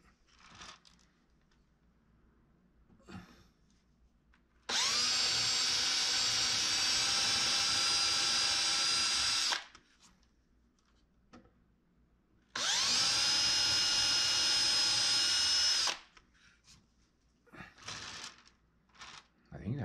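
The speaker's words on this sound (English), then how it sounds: "So get those holes drilled." A power drill bores holes in two long bursts of about five and three seconds, each with a loud, steady high whine up close, separated by quieter handling noises and brief talk.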